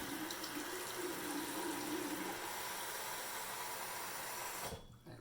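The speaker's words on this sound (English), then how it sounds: "let's get a little bit more hot water and we'll be ready to go here" Hot water runs steadily from a tap into a sink to prepare for a wet shave with a travel kit. The close, hissing splash stays constant for several seconds, then the tap shuts off and the sound stops abruptly.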